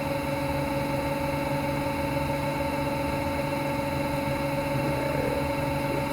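A pickup winding machine works on a coil for a 1956 Fender Stratocaster, giving a continuous, even motor hum with a steady whine, close and unbroken throughout, with no talking.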